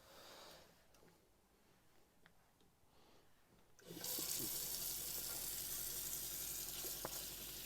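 Hot water gushes from a pressurised tap into the sink of an Adria Supersonic 780DC caravan, starting suddenly after quiet handling noises and then running steadily, close and fairly loud.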